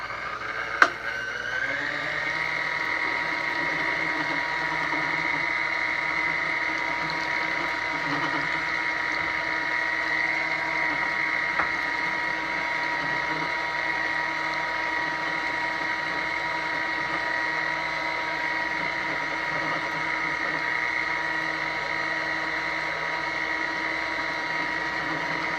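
A vintage Sunbeam Mixmaster stand mixer runs with its beaters in a bowl, giving a steady, close motor whine with a small click near the start and no talking.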